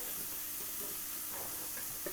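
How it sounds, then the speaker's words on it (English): Chopped onions for an egg roast gravy sizzle faintly in a pan while being stirred, a soft continuous hiss with light scraping touches throughout. "let's give that a good mix"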